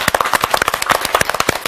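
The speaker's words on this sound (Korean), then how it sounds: "박수 한번 합시다." A short burst of audience applause in a classroom lecture, quick sharp claps overlapping in an uneven patter for under two seconds, close and fairly loud.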